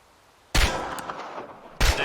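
Two sharp gunshots from a shooting practice range in Chernobylite, the first cracking out followed by a lingering reverberant tail, then a second loud report just over a second later.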